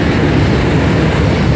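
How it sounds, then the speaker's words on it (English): A train rolls past near a high-running river at night, a loud, steady broadband rumble with a faint clatter that fills the whole stretch without letting up. "Wish this train would calm the fuck down."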